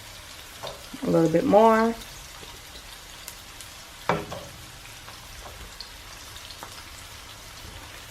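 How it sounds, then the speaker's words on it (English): Chopped garlic frying in a pan for chili gives a steady, even sizzle that runs throughout, with a short spoken remark near the start. "And now I'm gonna add the chopped garlic."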